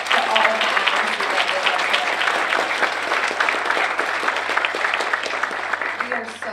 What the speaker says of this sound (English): So can we give one quick round of applause to all of the advocacy